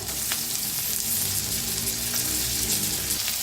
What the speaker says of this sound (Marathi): कांदा छान भाजायला लागलेला आहे, त्याच्यातच टाकूया टमाटर